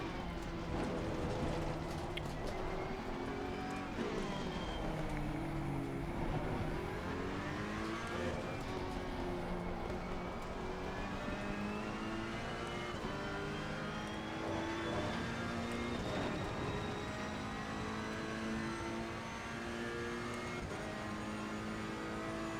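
A race car engine in a sim racing game at Paul Ricard holds a steady, loud drone throughout, its pitch rising and falling with shifts and throttle changes under continuous load, with no voice over it.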